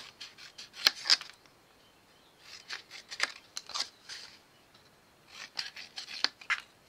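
Scissors snipping the corners of paper for a folded paper box, a series of quick crisp cuts in short irregular bursts, close and fairly quiet with no talking.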